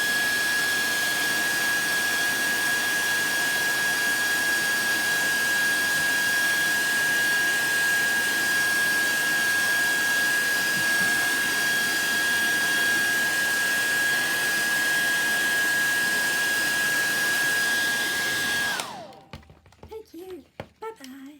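A hair dryer blows at close range in a long, loud, steady roar with a constant whine over it. It is switched off near the end, leaving quiet handling noises from drying a Brusho card.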